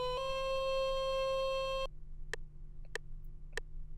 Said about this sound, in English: I duplicate the horn sound, and I find a region that I can loop so that this horn would sustain.